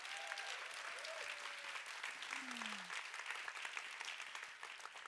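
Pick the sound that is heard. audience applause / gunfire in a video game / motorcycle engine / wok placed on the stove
audience applause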